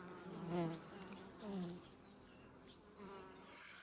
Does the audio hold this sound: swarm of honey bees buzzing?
yes